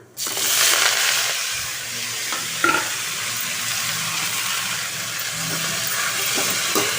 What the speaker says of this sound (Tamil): மீடியம் ஃப்ளேமில் வச்சுட்டு நல்லா நம்ம வதக்கிக்கலாம்